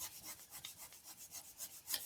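Folded paper being rubbed along its crease with a ruler, a soft rasping scrape repeating in steady strokes, close and quiet with no talking.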